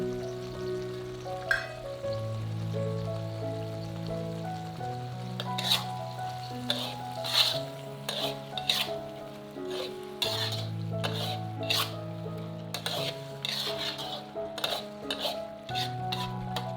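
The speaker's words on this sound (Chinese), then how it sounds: "开大火煮10分钟。" A pot of food cooking on high heat with edamame, bubbling and sizzling while a utensil stirs and clinks against the pot, a continuous tone droning underneath, close up with no speech.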